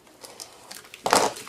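Plastic packaging for a Circuit Playground Express board crinkles as it is opened: a few faint rustles, then a sharper, louder burst of crackling near the end, close by with no talking.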